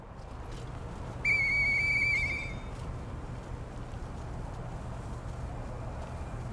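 Whistle blown in the video game Lies of P: a single bright, tonal note lasting about a second, clearly above a low steady background of game ambience, with no talking.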